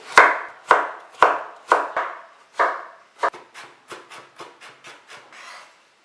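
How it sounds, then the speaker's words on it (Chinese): A knife chops carrot on a board, a dozen sharp close strikes, slow and evenly spaced at first, then quicker and softer toward the end, with no voices. "胡萝卜切碎"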